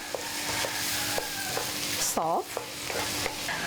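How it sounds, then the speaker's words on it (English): Onion frying in vegetable oil over medium heat, a steady sizzle with regular spoon taps and stirring scrapes, briefly under a short spoken word. "Add vegetable oil. Now add the shallot. Onion, I mean."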